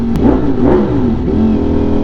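A Ducati Streetfighter motorcycle engine revs close by on a cold morning, with a brief rising blip of the throttle over a loud, rough idle.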